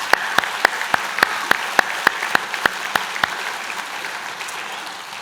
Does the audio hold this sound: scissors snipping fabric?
no